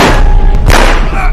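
A loud, booming gunshot in a film bursts out over a dense, noisy soundtrack, sharp and close.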